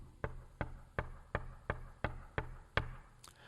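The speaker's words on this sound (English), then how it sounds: "A knock on that door." A steady series of seven or eight evenly spaced knocks on a door, close and moderately loud, with a faint sound trailing at the end.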